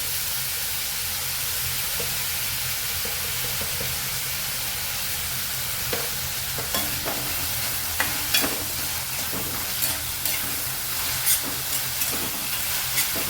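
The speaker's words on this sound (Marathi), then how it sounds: "कांदा चांगला लालसर होईपर्यंत आपल्याला परतून घ्यायचं" Onion sautéing with salt in a pan for paneer chingari bhaji, a steady close sizzle with scattered scrapes and taps of a spoon stirring through, no talking.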